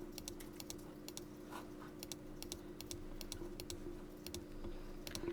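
Rapid light clicks of a computer mouse, clustered in quick bursts over a faint steady electrical hum, while selecting in Photoshop CS6; quiet and close.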